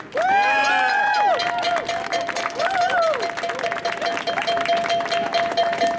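Crowd at an outdoor press conference at Temple University clapping and cheering, with loud shouts and whoops at the start before the applause carries on beneath voices.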